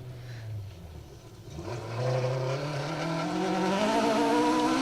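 A 4WD rally car races through a forest stage of the Woodpecker Stages Rally in Wales, approaching as a low engine note then revving harder through the gears, growing louder and closer.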